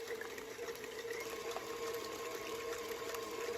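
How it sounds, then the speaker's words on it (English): An electric hand mixer beats egg whites for a Passover sponge cake, giving a steady, continuous mechanical whir that holds an even level throughout with no talk. "Next, I'm going to beat my egg whites."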